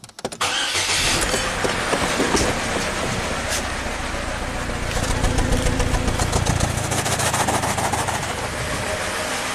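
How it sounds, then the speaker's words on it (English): Car with an intermittent P0300 misfire and one injector unplugged cranks and starts, then settles into a loud, uneven idle with a choppy, stumbling rhythm, close by, with no talking. "So let's run the car"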